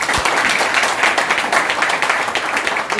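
A crowd gives loud applause at a Yashbiz leaders' training meeting, dense continuous clapping that lasts about three seconds and stands alone without speech.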